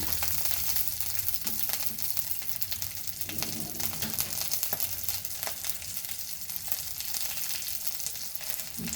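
A tadka tempering sizzles in hot oil over a low flame for Goan lentils, giving a steady, fairly quiet frying hiss with faint crackles and no talk.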